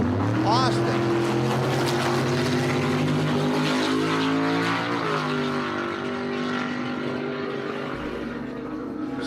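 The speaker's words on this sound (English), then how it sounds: "On the burnout box, here comes a couple of beauties." Drag racing cars, including a 1955 Chevy, idle and rumble on the burnout box with steady layered engine drone throughout, under a track announcer's voice.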